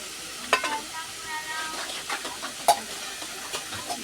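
Long bean paste seasoned with salt and turmeric fries in a pan, a soft, fairly quiet sizzle with occasional sharper scrapes and taps of a spatula stirring through it.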